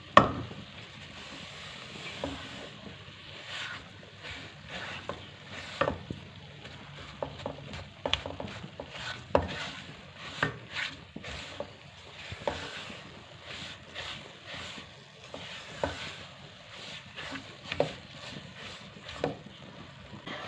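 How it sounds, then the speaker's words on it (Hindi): A spoon scrapes and stirs roasting dal chana panjiri in a pan, making repeated soft scraping strokes in an irregular rhythm over a faint low background. "चम्मच नहीं रोकना, हमने इसको चलाते जाना है कि इसके नीचे लगे नहीं है"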